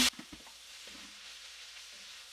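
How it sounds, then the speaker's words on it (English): Cooked ground meat tipped back into a pan with onions: a sharp thump at the start, then a low, soft sizzle and faint stirring scrapes, quiet and close. "We're going to go ahead and add our cooked ground meat back in the pan"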